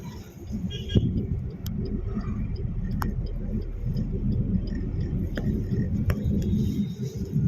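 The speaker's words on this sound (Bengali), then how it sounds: "এইবার এখান থেকে আবার জোরে চালাচ্ছি।" Car accelerating in fourth gear on a highway, a steady low engine and road rumble from inside the cabin with a few faint clicks and taps.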